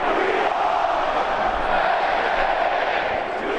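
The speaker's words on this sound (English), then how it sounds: "It's especially loud when cheerleader Ben Malloy gets on the mic and the crowd chants." A huge football crowd at Beaver Stadium roars and chants together, a dense, steady wall of voices with no breaks, close and loud throughout.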